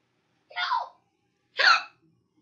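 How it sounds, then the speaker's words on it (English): Two separate hiccups from one person, sharp and close, about a second apart with silence around them. "I got some very annoying hiccups"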